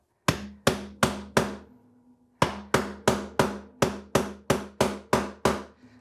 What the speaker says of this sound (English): once I've hammered it directly, I'll kind of move it around while hammering a little bit